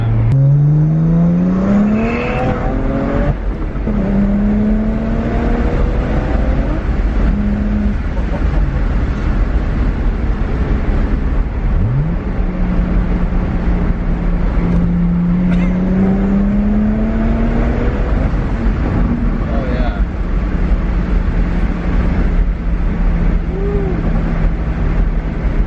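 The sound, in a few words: BMW 1M turbo engine and exhaust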